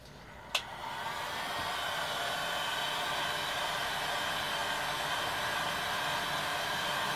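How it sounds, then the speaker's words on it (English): A hot air heat source blows on a polyethylene welding strip during a DIY kayak repair, giving a steady, even, faint whoosh after a single sharp click at the start. "Just start heating the strip up by moving the air back and forward in an even way."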